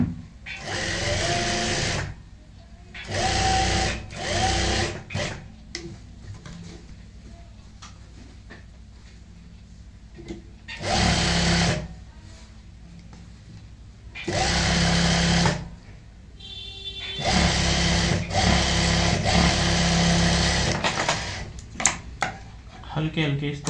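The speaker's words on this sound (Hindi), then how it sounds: "ऐसे एक सिंगल सिलाई लगाएंगे, और इसके पीछे हल्का सा इस तरीके से हाथ लगा के चलें" A sewing machine stitching a single seam on a kurti runs in several loud, close bursts of steady whirring, separated by pauses where someone talks.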